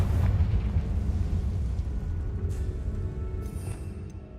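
Confringo spell blast in Hogwarts Legacy, a heavy booming explosion with a deep rumble that slowly fades, followed by faint crackling debris.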